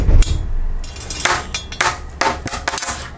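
A quarter with a slip of paper taped to it drops along an aluminum sheet, giving a quick run of sharp metallic knocks and clatters, loud and close, with no talk.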